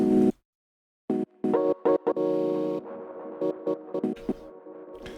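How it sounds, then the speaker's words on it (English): Short musical chords and stabs through a vintage tape-style delay and reverb plugin, with a warm, slightly wobbly echo trailing after each hit, giving a choppy, retro tape-delay feel. "kind of vintage tape sounding delay"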